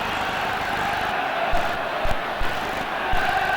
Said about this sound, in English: Just listen to the Goodison Park crowd getting behind their side now.